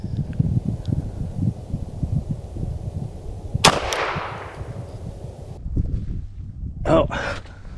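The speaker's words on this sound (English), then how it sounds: "First up, we have the Ruger Wrangler in 22 long rifle." A Ruger Wrangler .22 Long Rifle revolver fires a single sharp shot into a ballistic gel head outdoors, a loud crack with a short decaying tail, framed by wind rustle and brief speech.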